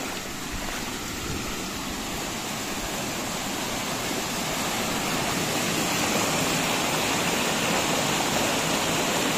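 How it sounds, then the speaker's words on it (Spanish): Water gushes and rushes in a steady, loud, unbroken roar down a natural rock waterslide, like a strong stream pouring nearby, with no voices. "Chorros y chorros de agua."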